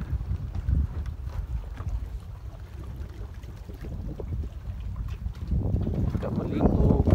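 Strong wind blowing through a mangrove swamp, low rumbling gusts buffeting the microphone and building toward the end, with people talking underneath.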